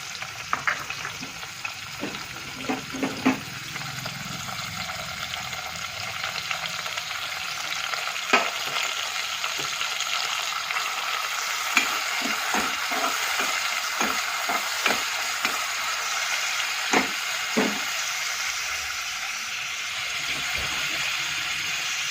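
Steady sizzling of tomatoes and green chillies frying in hot oil for an eggplant and potato curry, with repeated spoon clinks and scrapes against the pan throughout, close by.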